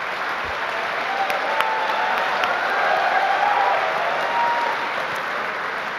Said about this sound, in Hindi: जितने हमारे एक सारे कैमरामैन्स हैं, ये भी ताली बजा रहे हैं